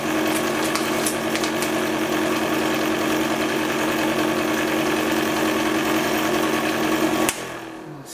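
A candyfloss machine spins raspberry-flavoured pink sugar with a loud, steady mechanical hum and rapid rattling vibration, then winds down abruptly near the end as it is stopped.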